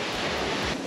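A steady, broad wash of ocean surf, a continuous roar of breaking waves with no voices.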